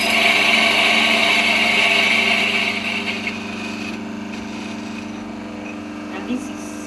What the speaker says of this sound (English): after you put 11 grams, you grind the coffee.